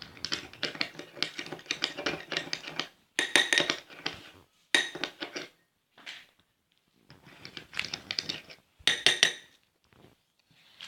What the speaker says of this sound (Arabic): وغادي نخلط كل المكونات مع بعض بحال هكا